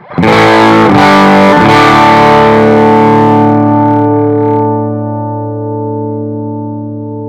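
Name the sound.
electric guitar through Bluguitar Amp1 clean channel at 10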